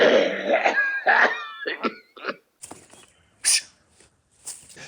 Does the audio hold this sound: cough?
yes